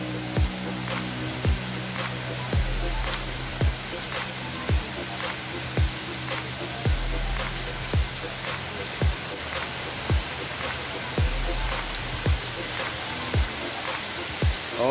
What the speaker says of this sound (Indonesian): karena ini keadaannya hujan